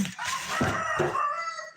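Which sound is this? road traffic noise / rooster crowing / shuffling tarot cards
rooster crowing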